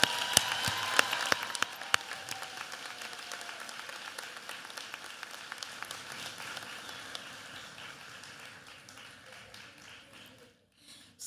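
Applause from graduating nursing students at a pinning ceremony, directed at their families and friends: a broad wash of clapping in a hall with a few sharp individual claps, steady at first and tapering away toward the end.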